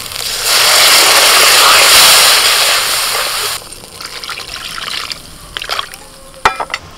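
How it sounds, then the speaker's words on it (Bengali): Water gushes into a pan of spice paste made with red chili powder, Kashmiri chili powder and salt for a silver carp and pointed gourd curry, a loud pour lasting about three seconds followed by quieter drips and a few utensil clinks. "এবার জল দিয়ে দিচ্ছি।"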